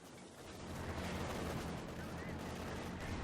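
Rocket barrage from a Land Mattress launcher slamming into the ground in Company of Heroes 2, a dense rumbling roar of overlapping explosions that swells in after a moment and keeps booming steadily to the end.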